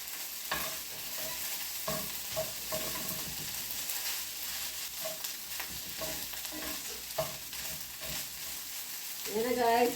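Fried rice with sesame oil being stir-fried in a pan, a steady soft sizzle with repeated scraping and tossing strokes of a spatula, fairly quiet and close throughout.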